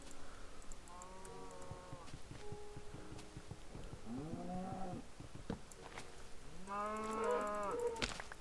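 Cattle in the video game Minecraft, modded with Thaumcraft, moo several times in a row, drawn-out lowing calls with short quiet gaps between them, fairly faint against a soft background.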